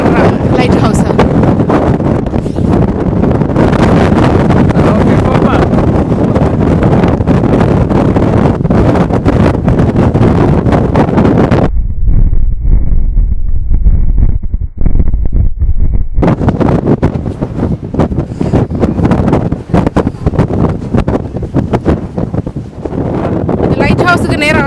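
Strong wind batters the microphone on a small hilltop near a lighthouse, loud gusty roaring that drops off briefly midway before surging back, with a voice talking over it.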